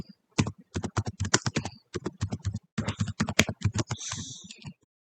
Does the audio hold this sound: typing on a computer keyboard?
yes